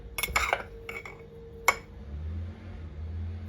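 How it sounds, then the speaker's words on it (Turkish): Coffee spooned into a cup at a breakfast table: a few quick close metallic clinks and scrapes of a spoon against ceramic in the first two seconds, then quiet room hum. "Böyle bir kahvemiz var öyle bir kaşık koyalım."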